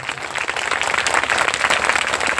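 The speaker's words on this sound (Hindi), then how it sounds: "हम तालियों के साथ में जोरदार स्वागत करें" Audience at a Christmas church gathering breaks into applause, a dense steady wash of clapping that stays loud and even throughout with no one talking over it.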